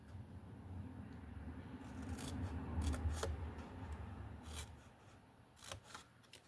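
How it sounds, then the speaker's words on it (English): Scissors snip a thin sliver off card for a handmade A2 greeting card box, with several quiet close crisp cuts and light paper rubbing over faint room noise. "I want you to cut a little sliver off like this"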